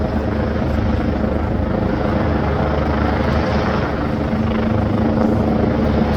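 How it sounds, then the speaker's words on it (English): A helicopter hovers low over a city street during a protest near Downing Street, a steady, loud rotor thrum and engine whine that stays constant throughout. "we might be able to get rid of the infernal noise of the helicopter."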